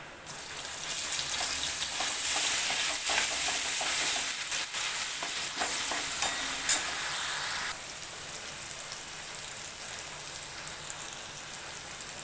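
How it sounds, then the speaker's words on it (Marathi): Ginger garlic paste with cumin seeds fries in hot oil in a pan for a chicken rassa curry, giving a steady, loud, dense sizzle with some stirring scrapes that softens slightly toward the end, with no talk. "आलं लसणाची पेस्ट चांगली फ्राय करून दिली"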